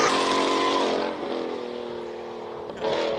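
Ferrari 488 GTB engine at a hill climb, a steady loud drone with a brief dip in pitch as it shifts, then a surge of revs near the end, heard from fairly close.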